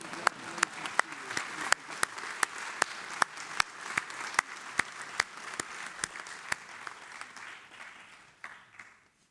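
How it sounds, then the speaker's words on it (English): A graduation commencement audience claps for one degree recipient. Loud, sharp individual claps come in a fairly even rhythm over a soft spread of crowd applause, tapering off at the end, with voices underneath. "He's the only one, so clap for him."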